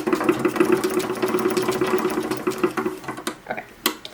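A chain stitch sewing machine sews a seam on an 1880s-style bustle skirt, its fast rhythmic whir close and loud for about three seconds, then stopping into a few scattered clicks and handling noises.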